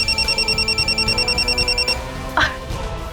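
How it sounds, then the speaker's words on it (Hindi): A mobile phone rings with a rapid, pulsing electronic trill, then stops abruptly, followed by a brief rustle and quiet room noise. "इसका फोन आ रहा है।"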